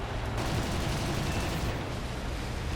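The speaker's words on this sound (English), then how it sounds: "Yeah, these cannons really do work nicely." Cannons of a Ki-61-I Hei Hien fighter plane in War Thunder firing in a continuous rapid burst, loud and dense throughout with no pauses or talking.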